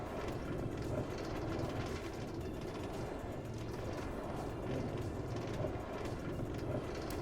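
A monorail train running in the Minecraft video game makes a steady rumbling, clattering drone that holds evenly throughout with no pauses.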